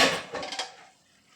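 A metal lid clanks onto a pan of sautéed zucchini with a short rattle as it settles, then quiet.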